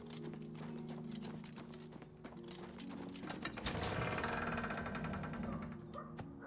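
Horses in the video game Oblivion Remastered clip-clop in quick, uneven hoof strikes with shuffling and mechanical rattles, fairly quiet, swelling into a denser clatter midway, with no talk.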